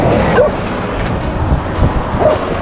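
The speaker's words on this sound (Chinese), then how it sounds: "我又被狗吠" A dog barks along a roadside on a walking route, two short yipping barks about two seconds apart, fairly close and over a steady background rumble, with no talking.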